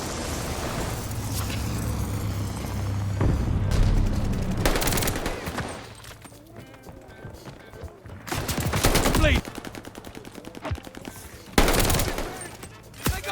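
Bursts of automatic gunfire from the Call of Duty Vanguard beta, loud and close, coming in clusters with pauses between them over a steady background of game ambience and a faint voice.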